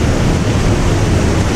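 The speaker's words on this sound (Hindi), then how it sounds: "पानी का फ्लो बहुत ज़्यादा है इधर" A loud, steady roar of water rushes through Robber's Cave at Gucchupani in Uttarakhand, where a waterfall pours from above into a strong-flowing river, with no voices over it.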